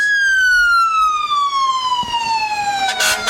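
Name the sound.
emergency vehicle sirens in Christmas parade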